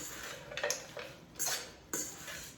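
Red butter lettuce with hazelnuts is tossed in a bowl, giving a few light, close clinks and knocks of utensils against the bowl in an irregular rhythm, with no talking.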